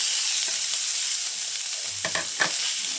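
Small tomatoes tossed into a hot pan with onion and garlic, a close, loud continuous sizzle with a few soft stirring knocks near the end.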